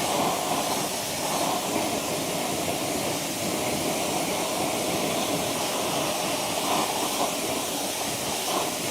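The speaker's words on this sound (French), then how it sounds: "On passe au rinçage." A pressure washer sprays water to rinse cleaner off a car alloy wheel, a steady loud broadband hiss of spray running continuously without a break.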